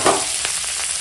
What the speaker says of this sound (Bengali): তেলের উপর দিয়ে দিলাম কি বলে শুকনো লঙ্কা ফোড়নে